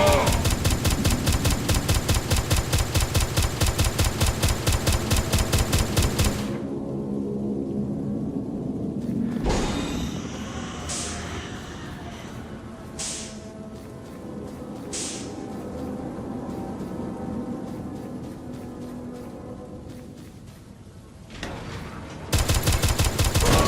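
Rapid automatic gunfire from the horror shooter game Boomshoot blasts in dense, steady bursts, with scattered single shots and rumbling between the opening and closing volleys.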